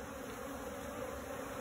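Steady, continuous buzzing of many bees at a barrel beehive, close and even, with no talk over it.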